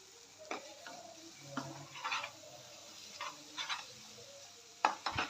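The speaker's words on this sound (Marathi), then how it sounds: "तेल सुटतं, नंतर आपण थोडं परतवल्यावर हे बघा कसं आजूबाजूने तेल सुटायला." Food sizzles and fries in oil in a pan while being stirred, with a soft scraping stroke and light clinks recurring every second or so, close and fairly quiet.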